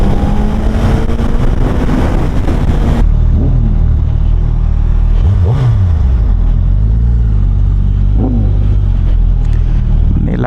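A Suzuki Hayabusa with a Brocks carbon exhaust revs loud and close. Its engine rises and falls in roaring sweeps over a continuous low rumble, with occasional sharp crackles.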